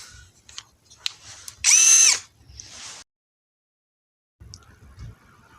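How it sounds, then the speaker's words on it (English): A Hyper Tough 12V brushless drill driver spins up in a short, loud whirring burst of under a second, surrounded by quiet handling clicks and rattles during an unboxing. "And you have your drill driver."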